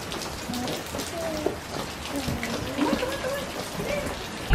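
Steady early-morning rain patters on a surface in California, a dense even hiss with scattered drops, and a brief louder bump right at the end.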